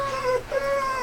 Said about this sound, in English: If you're wondering what that noise is, got a couple of shop dogs.